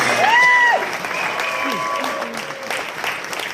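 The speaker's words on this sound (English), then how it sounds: "Give yourself a round of applause." Audience applause at a step-down speech during the IMsBB 2015 event, a steady wash of clapping with a brief whistle-like tone near the start, carrying on through the clip.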